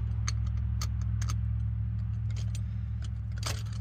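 A Ko-ken Z-Series 4711XZ free-turn cross wrench spins a lug nut off a wheel, giving light metallic ticks and jingling over a steady low mechanical hum, close and fairly quiet.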